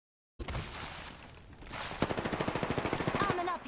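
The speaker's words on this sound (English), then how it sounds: "Opening fire on the enemy." Video game gunfire opens with a short burst and then settles into a rapid, even stream of automatic shots, fairly quiet, as someone talks over it.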